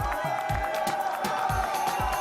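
A large arena crowd at the Eurovision Song Contest cheers and applauds for Sweden's performer, loud sustained noise with rhythmic clapping pulses and a tonal hum running underneath.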